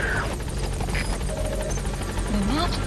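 A support helicopter arriving in Metal Gear Solid V, a loud continuous rotor drone and buzz filling the scene, with in-game radio voices speaking over it.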